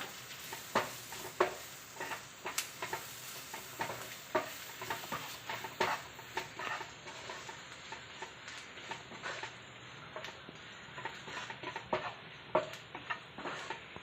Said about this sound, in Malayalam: നല്ലതുപോലെ മിക്സ് ചെയ്യുക മസാലയുടെ എല്ലാം പച്ചമണം മാറുന്നത് വരെ ഇളക്കി കൊടുക്കുക